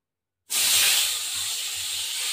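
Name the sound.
singi fish frying and spattering in hot oil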